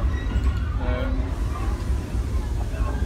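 Steady low rumble inside a moving passenger train in Uganda as it manoeuvres, with faint background chatter and mechanical noise throughout.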